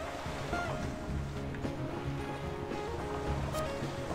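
Sea waves in the fantasy RPG Sudeki wash steadily in a soft, continuous surf mixed with gentle wind and faint game ambience, with no talk over it.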